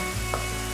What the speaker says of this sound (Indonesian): Ini sausnya kita biarkan sampai mendidih dulu ya, atau berbuih.